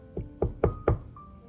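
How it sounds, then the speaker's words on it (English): Four firm knocks land on a wooden cabin door at an uneven pace, close and distinct against a quiet background. "He went up to the door and knocked."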